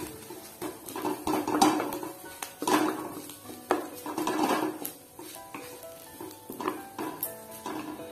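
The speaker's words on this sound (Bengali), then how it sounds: "ढाकाटा खुले दिच्छि एबं एटाके भेंगे निच्छि" Fish eggs are broken up and fried in a pan, with repeated scraping and clinking of a spatula against the metal over a soft sizzle, close up and without speech.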